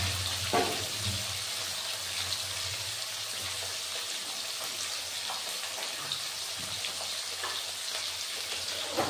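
Bata fish fry in hot oil in a home kitchen, a steady, dense sizzle filling the whole stretch at moderate loudness with a few faint clinks and no talk.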